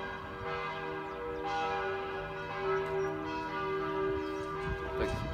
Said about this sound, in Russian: И стоит колокольный звон по всей простени.